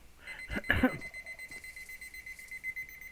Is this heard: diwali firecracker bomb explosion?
no